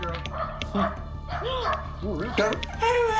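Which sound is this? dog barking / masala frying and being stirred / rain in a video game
dog barking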